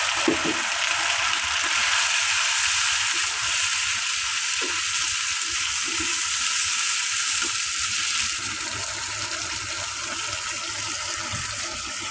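Spices frying in oil in a pan, a steady broad sizzle that holds loud and even throughout, with faint clinks of stirring beneath and a slight drop in level near the end.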